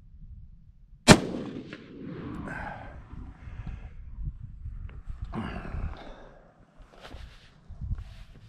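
A Ruger Mini 14 rifle with an adjustable gas block firing a single test round outdoors, one sharp loud crack followed by a rumbling echo and quiet ambient noise.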